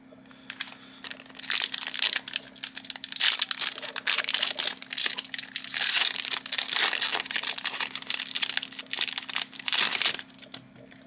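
A foil trading card booster pack for Flesh and Blood, Crucible of War, being handled and opened, producing continuous close crinkling and crumpling of wrapper and cards over nearly eleven seconds, with no talk.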